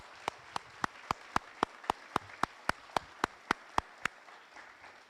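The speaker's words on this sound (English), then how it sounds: "How about a round of applause?" An audience at a K9s For Warriors graduation ceremony in Ponte Vedra, Florida, claps in a steady, evenly spaced rhythm of about fifteen sharp claps over a soft crowd background.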